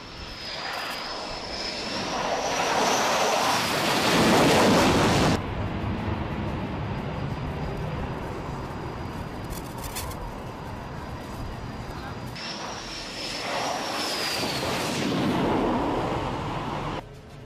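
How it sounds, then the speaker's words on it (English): Fighter jet engines at a NATO Neptune Strike exercise roar loudly in two long passes, each swelling to a peak and then fading into a sustained distant rumble. "and fighter aircraft."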